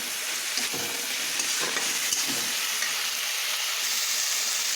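Chopped vegetables and half-ripe tomatoes fry in a pan for a vegetarian mung and pea dal, giving a steady loud sizzle with brief stirring scrapes and no speech.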